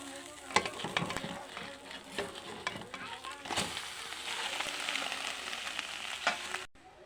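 Fish fries in a pan with green chilli, giving a close, steady crackling sizzle. Sharper pops and a brief stirring or flipping clatter break in before the sound cuts off at the end.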